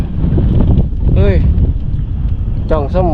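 Strong wind buffets the microphone outdoors during bottom fishing, a loud continuous low rumble throughout, with a voice calling out over it.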